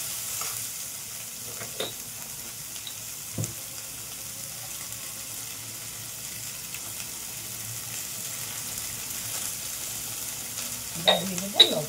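Chopped onions frying and being stirred in a pan: a low, steady sizzle with occasional spoon scrapes and knocks, getting busier near the end.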